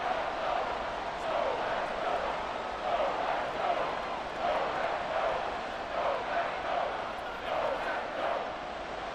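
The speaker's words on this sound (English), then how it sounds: "The crowd getting into it as we come up on a big 3rd down." A stadium crowd at a Green Bay Packers versus Minnesota Vikings NFL game roars steadily before a big third down, with loud swelling cheers and commentary voices over it.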